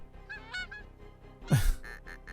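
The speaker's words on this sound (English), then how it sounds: "No! Bad geese." Cartoonish geese honking in the golf video game Golf Story, several quick nasal honks, then one louder, longer squawk near the end over a soft game soundtrack.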